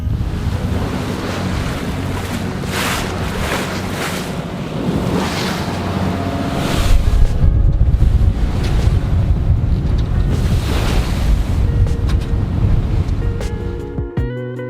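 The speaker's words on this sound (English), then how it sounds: "It was a short run down to Cambridge Key, but unfortunately it was directly into the wind." Steady wind buffets a sailboat heading straight into the trade winds in the Bahamas, mixed with constant wave wash against the hull and heavy microphone wind noise, growing rougher and louder partway through.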